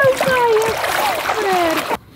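A dog enters the water with a steady run of splashing and sloshing, close and fairly loud, while people's voices carry over the top before the sound cuts off abruptly.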